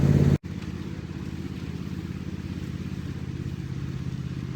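A small red tractor engine runs steadily over wet ground, a close, continuous mid-pitched chugging drone that briefly cuts out near the start before picking straight back up, with no talk.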